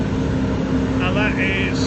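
A Bayliner 2556 Commandbridge boat engine runs at opened throttle, a steady loud droning hum under a man's speech.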